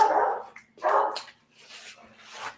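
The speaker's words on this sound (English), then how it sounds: "My dog drives me crazy when he barks." A dog barks indoors near a cutting table during a sewing session: two loud, close barks followed by softer, higher whimpering yips.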